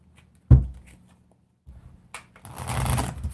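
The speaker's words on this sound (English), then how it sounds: "Let me actually shuffle your cards just a little bit here." A tarot deck is shuffled close up: a single soft thump, a pause, then a burst of brisk papery riffling toward the end. No one speaks.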